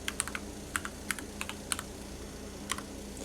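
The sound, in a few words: typing numbers on a calculator keypad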